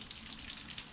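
Garlic sizzles in hot oil in a pan while chili garlic shrimp is being cooked, a close, steady crackling fry throughout the brief moment with no voices.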